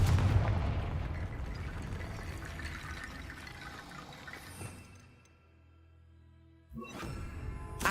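The Confringo fire spell explodes in the Hogwarts Legacy video game, opening with a loud, booming blast that slowly fades to near silence before a second sharp burst hits near the end.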